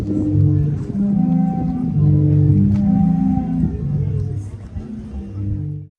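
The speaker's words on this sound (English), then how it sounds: "This is also where the sea organ is located, a unique installation that harnesses the energy of ocean waves." Sea organ pipes on the Zadar seafront in Croatia, driven by ocean waves, sound overlapping sustained low tones that swell and shift steadily for several seconds before cutting off.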